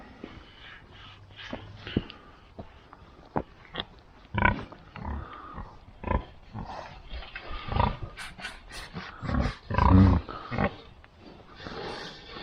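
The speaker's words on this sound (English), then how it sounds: "It's an animal you just don't see very often, the pig, is it?" A pig gives a run of snorting grunts, loud and close, in irregular bursts with short pauses between them.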